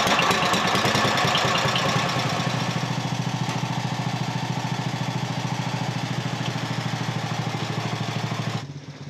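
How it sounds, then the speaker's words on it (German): A vintage Traktomobil two-axle motor mower for steep terrain, built on the single-axle Rekord, runs its engine close and loud with a steady, rapid chug throughout, cutting off abruptly just before the end. "Dieser zweiachsige Motormäher wurde auf der Basis des Einachsers-Rekord so gebaut, dass man in steilem Gelände nicht nur mähen, sondern auch selbst mitfahren konnte."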